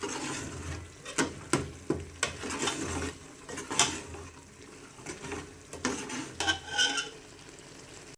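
Minced meat (keema) being stir-fried in a pan, repeated scraping and clattering spoon strokes against the metal with a soft sizzle underneath, close and moderately loud in irregular bursts.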